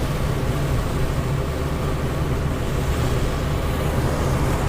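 Strong wind buffets a handheld camera on a mountain pass above the Franschhoek Valley, making a steady, loud broadband roar that continues unbroken throughout with no talking.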